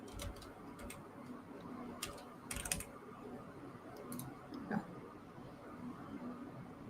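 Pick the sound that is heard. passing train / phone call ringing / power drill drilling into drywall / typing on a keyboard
typing on a keyboard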